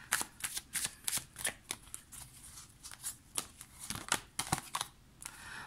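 Tarot cards being shuffled and drawn, a quick run of crisp papery riffles and flicks in an uneven rhythm, close and fairly quiet, with no talking.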